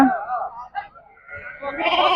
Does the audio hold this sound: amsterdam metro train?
no